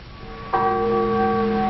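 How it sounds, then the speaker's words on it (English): A church bell strikes once and rings on, its deep resonant tone and bright overtones sustaining clearly without fading over the next second. "They hadn't thought of the church bells"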